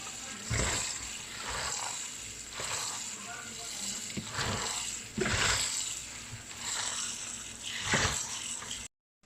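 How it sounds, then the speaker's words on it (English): Spinach leaves are washed under running tap water, with repeated sloshing pulses a few seconds apart, close and moderately loud, ending abruptly. "We're now washing the spinach."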